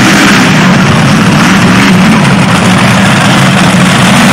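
A tractor-pulling machine's Mamba engine of about 1800 hp drones loud and steady in a dense, continuous roar with heavy low rumble, at a 1990 tractor pulling event in Halsteren.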